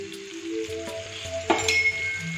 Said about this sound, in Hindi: इसे 5 मिनट हम फ्राई होने देंगे और फिर वापस से इसे टर्न करके हम दूसरी साइड से भी फ्राई कर लेंगे।